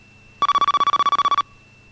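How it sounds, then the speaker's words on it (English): A telephone rings once in a single electronic trill burst of rapid, even pulses lasting about a second, loud and close, on a 1997 radio talk show. "Oh, look, phone's ringing."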